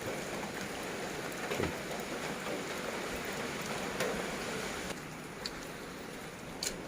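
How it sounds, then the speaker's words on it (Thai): Heavy rain pouring during a flood, a dense steady hiss of drops on surfaces with a few louder splashes and no voices. "ฝนตก"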